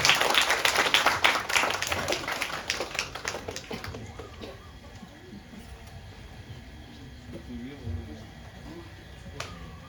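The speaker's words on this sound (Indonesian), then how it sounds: "Monggo Romo Sindu, tepuk tangannya" Audience applause and claps at a cultural talk event as Romo Sindhunata is welcomed onto the stage, dense and loud for the first few seconds, then thinning to scattered claps while a voice talks over the room.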